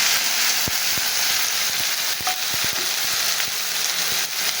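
Spice paste stirred into potatoes and taro frying in a pan, giving a steady loud sizzle throughout with scattered sharp clicks and scrapes from stirring, no voices.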